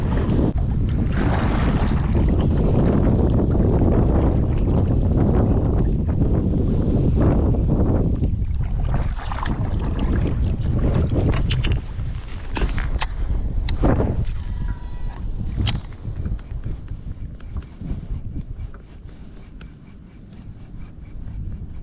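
Strong wind roars and buffets the microphone steadily while out on a boat bass fishing with frogs and crankbaits in the California Delta, with water and hull noise beneath and a few sharp clicks and knocks later on.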